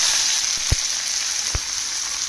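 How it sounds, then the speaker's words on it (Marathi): Onion dropped into a small ladle of hot oil, giving a constant fizzing sizzle, with two sharp knocks from the pan or spoon briefly cutting through the hiss. "आता पण डायरेक्ट कांदा टाकून घ्यायचा"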